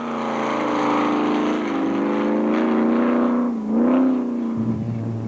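A Class D race car at the 2006 Nissan Dealer 400 rally, its engine loud and close, revving hard in a sustained harmonic roar that dips briefly before surging again, with no talk over it.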